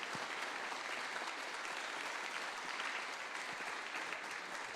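Steady applause from a large church congregation on Easter Sunday, dense and sustained throughout without pause.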